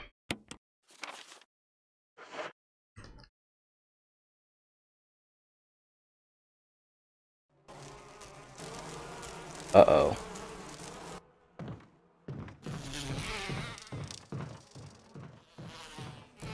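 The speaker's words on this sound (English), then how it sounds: "Stupid bees." Swarm of bees buzzing in the video game Resident Evil HD Remaster, a dense droning burst of several seconds with a louder peak, following short sparse game sounds and a brief spoken exclamation.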